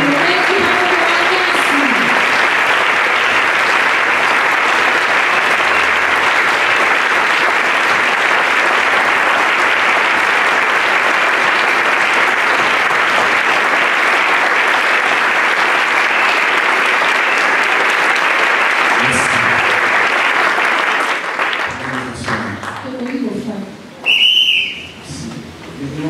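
A crowd at a memorial tribute gives loud, sustained applause with whistles mixed in, the clapping thick and continuous before fading out as voices and a sharp whistle come through near the end.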